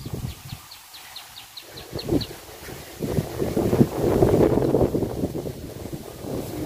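Strong wind blowing outdoors at a rural home garden roars and buffets against the microphone, growing louder toward the end, with a few faint bird chirps early on.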